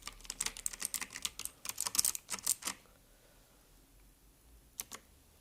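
A xecret mechanical keyboard clacks under a fast, close burst of typing that stops abruptly, then a pause and a couple of lone keystrokes, with no voices.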